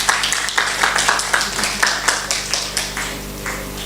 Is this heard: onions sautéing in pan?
no